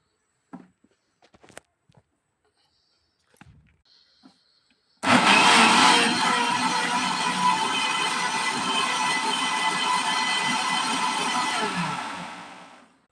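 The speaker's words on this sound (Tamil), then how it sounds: "நம்ம இந்த மிக்ஸி பவுலில் போட்டு அரைச்சிட்டு காட்டுறேங்க" After a few faint clicks and handling sounds, a mixer grinder blending cucumber starts abruptly and runs loudly with a steady whirring roar, then stops.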